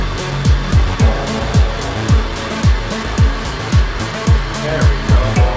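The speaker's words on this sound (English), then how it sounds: "once they're to temperature, the plastic should be melted and we can start extruding" A home-made plastic extruder grinds along with a loud, steady mechanical drone, pulsing in regular rhythmic surges about twice a second, close and alone.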